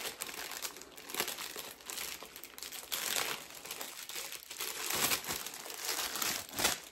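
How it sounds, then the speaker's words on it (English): Wrapping paper crinkles and rustles while a cheap LED-light gadget is unboxed, with close, continuous crackling in uneven bursts that swell louder around the middle and end, no talking. "Sorry about the paper. I didn't think it was going to make that much noise."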